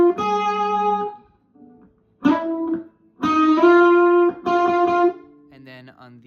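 An electric guitar plays a short riff with a finger slide along the third string, giving clear sustained notes in separate phrases with brief gaps and a slightly distorted tone.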